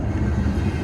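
A train passing at a railfanning spot, a dense low rumble and rolling rail noise that holds steady through the short moment, loud and continuous with no talk.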